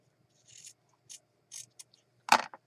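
Scissors snipping paper for a horse-themed journal page, several short quiet cuts spaced apart, then one louder, sharper snip near the end, with near silence between.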